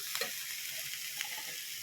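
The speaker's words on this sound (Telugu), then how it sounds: "చూసారా మాడకుండా నీట్గా వేయిస్తున్నాను కదా" Sliced bitter gourd frying in a pan, a steady close hiss of sizzling oil with a few small stirring clicks.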